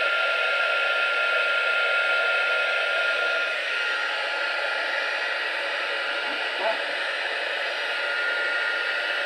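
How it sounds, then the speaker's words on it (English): A heat gun blows steadily while embossing a handmade gold card, a loud, constant broadband whoosh that runs alone throughout with only a faint tap near the end. "Sorry about the noise from the heat gun."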